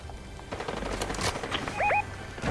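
Gunfire in a Fortnite match rattles out as a dense, continuous stream of rapid shots with tonal game effects near the end, fairly loud and steady throughout.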